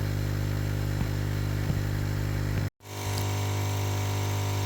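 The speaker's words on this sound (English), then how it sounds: "So this setup is using two pumps connected to one." Two air pumps run together as a CO2 laser air assist, giving a steady, loud electric hum and buzz with a constant drone. It cuts out abruptly for a moment partway through, then resumes at the same level.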